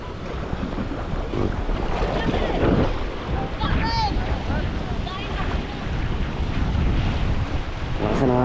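Strong sea wind roars and buffets the microphone over crashing waves and surf at a coastline, steady and loud throughout, with a brief tonal squeal near the middle and faint voices in the background.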